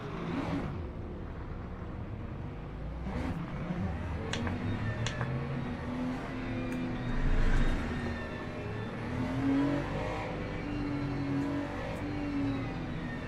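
A Ferrari race car in Le Mans Ultimate hums along on a formation lap, its engine note gently rising and falling in pitch at moderate volume, with a few faint clicks over the top.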